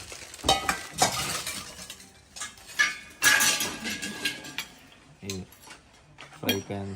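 Copper and brass pots, pans and kadais being handled at a wholesale market stall, with irregular metallic clinks and clanks, a few sharp knocks, and a low hollow resonant ring near the end, amid background voices.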